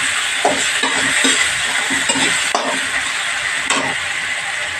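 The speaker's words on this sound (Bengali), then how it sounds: "ভালো করে ভাজবো।" Spices with grated coconut and powder sizzle in a pan for mutton biryani, a loud continuous frying hiss broken by several scraping stir strokes, close up with no talking.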